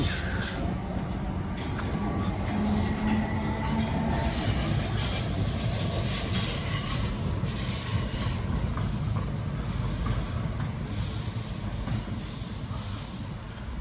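A train rumbles past on the rails in a steady, loud roar, with metallic wheel squeal and clatter throughout; no voices.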